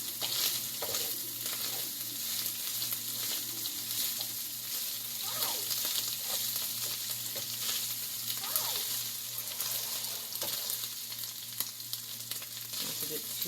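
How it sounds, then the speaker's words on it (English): Sauce with Italian seasoning stirred in a pan for baked ziti, a steady sizzle with soft scraping strokes throughout, fairly quiet and without talk. "Mix that around."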